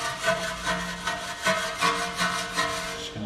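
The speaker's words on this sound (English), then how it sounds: "we're going to scrub the inside of the barrels. So I got this soft brush right here." A soft brush scrubs the inside of Tesla wheel barrels in rhythmic back-and-forth strokes, about two per second, loud and close with no talking.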